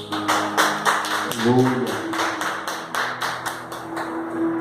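A Pentecostal church congregation at a March communion service claps in a steady rhythmic beat. The clapping is loud and close, with voices and a sustained musical tone underneath.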